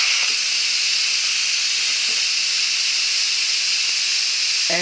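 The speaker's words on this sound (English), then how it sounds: "You can hear that the pressure is releasing." Steam hissing steadily from the release valve of a Cosori pressure cooker, a loud continuous broadband rush that holds at a constant level throughout.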